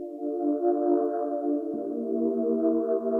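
A spacey Serum synth preset built from a sine wave holds a smooth, sustained chord alone, and a lower tone enters partway through for a steady, airy pad.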